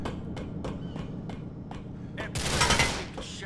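Faint, evenly spaced shots from GTA IV gunfire crack in a steady rhythm, then a louder, harsher burst of noise swells briefly near the end.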